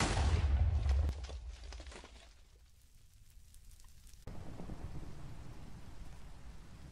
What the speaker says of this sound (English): It is thundering, and this trident has channeling.